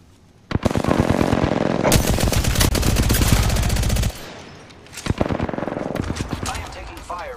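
Automatic weapon fire in the video game Apex Legends, long loud rapid bursts close by with heavy repeated shots, a brief lull, then more bursts.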